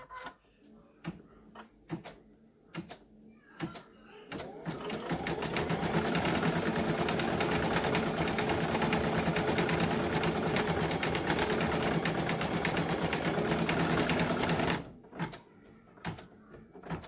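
An embroidery sewing machine stitching a design in the hoop, a loud, fast, continuous mechanical chatter that runs for several seconds, bracketed by scattered clicks and handling knocks before and after.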